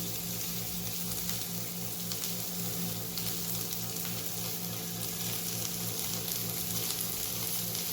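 Sliced onions sautéing gently in a pan over a slow flame give a steady, soft sizzle that runs evenly throughout without any speech.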